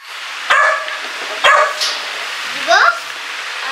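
A dog barks twice in sharp, close yips, then gives a rising whimpering whine, indoors in a household with faint background noise.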